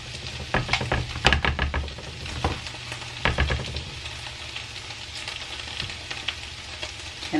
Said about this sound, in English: So I'm just gonna go ahead and start adding bacon to my pan.